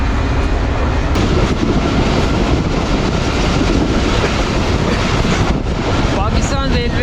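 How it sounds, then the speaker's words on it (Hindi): The Shalimar Express passenger train running on rails between Lahore and Multan, heard as a loud, constant roar of wheels and rushing wind, with brief squeals near the end and no clear talk. "पाकिस्तान रेलवे लाहौर डिवीज़न को अलविदा कह दी है शालीमार एक्सप्रेस ने और मुल्तान डिवीज़न में कदम रख ली है"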